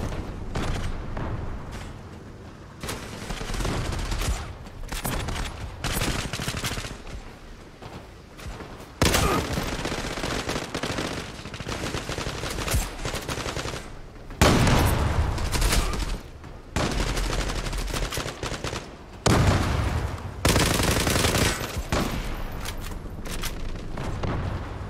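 Gunfire in the online shooter Zula: dense, loud bursts of automatic and single shots in rapid succession with brief gaps, continuing almost nonstop.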